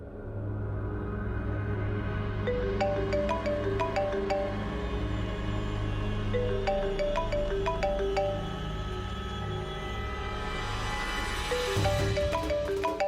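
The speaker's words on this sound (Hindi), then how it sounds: "ट्विंकल का फोन आ रहा है" A melodic phone ringtone plays repeatedly over a steady musical backdrop, swelling near the end.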